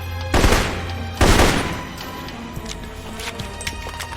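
Rifle gunfire in the video game Alpha Protocol: two loud, sharp reports about a second apart, each with a ringing tail, followed by quieter game ambience and faint scattered clatter.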